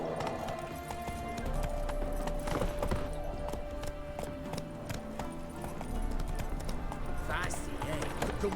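Roach the horse's hooves clip-clop along in The Witcher 3, a steady trotting rhythm mixed with game ambience and a voice speaking over it.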